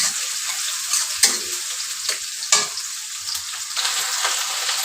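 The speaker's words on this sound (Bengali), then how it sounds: "আর এই কড়াতে আমি চিংড়ি মাছ দো পেঁয়াজি করবো, তার জন্য পেঁয়াজটা দিয়ে দেবো।" Onions frying in oil in a kadai for prawn do-peyaji, a loud continuous close sizzle with a few sharp spatula clacks and stirring scrapes, no talking.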